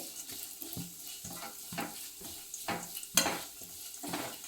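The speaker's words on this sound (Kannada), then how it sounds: "ನಂತರದಲ್ಲೇ ನಾನು ಮಿಲೆಟ್ಸ್ ಪೌಡ್ರನ್ನು ಹಾಕಿ ಇದಕ್ಕೆ ಫ್ರೈ ಮಾಡ್ಕೊತೀನಿ." Millet powder stirred and roasted in ghee in a pan, with soft rhythmic scraping strokes over a low, steady frying sizzle, close and fairly quiet with one sharper clink of the spoon.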